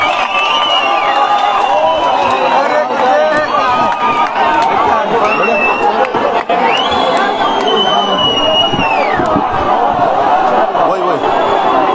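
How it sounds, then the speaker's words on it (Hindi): A large crowd of young protesters fills a rally with a continuous, loud roar of mingled voices, shouts and bursts of cheering, a dense wall of noise throughout. "एक बड़ी भीड़ यहाँ पर आई है"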